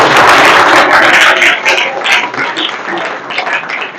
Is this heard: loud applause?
yes